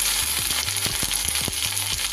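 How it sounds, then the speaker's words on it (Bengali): Whole spices for tempering crackle in hot oil for lau dal with a steady close sizzle and faint, irregular pops and clicks throughout. "ফোড়নটা দিয়ে সুন্দর গন্ধ বেরোলে ওর মধ্যে দিয়ে দেব"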